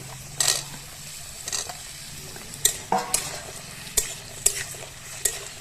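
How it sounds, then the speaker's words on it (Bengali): Cut potato pieces are added to pumpkin already frying in a pan for a Malabar spinach and lentil dish, then stirred. A soft sizzle runs under it, broken by sharp, irregular spatula scrapes and clanks, close and clear. "কুমড়োটা কিছুক্ষণ ভেজে নিয়েছি। এরপর দিয়ে দিচ্ছি টুকরো করা আলু।"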